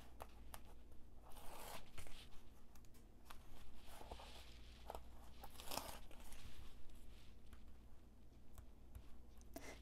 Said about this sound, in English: Take off your tape.